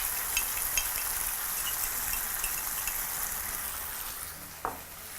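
Pork ribs fry in a pan with a steady bright sizzle and faint crackles, ending with a brief clack of a utensil or the pan.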